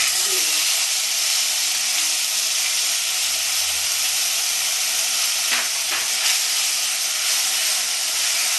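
Cumin paste frying in hot oil for a Bengali katla fish curry, a loud, continuous hiss and sizzle heard up close with a few brief stirring knocks.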